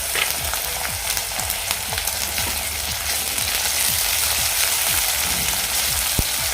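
Tomato and medium onion sautéing in a pan for a mixed vegetable dish of brinjal, potato, ghevda beans and dried shrimp, a steady close sizzle with repeated scraping stirs of the spatula throughout.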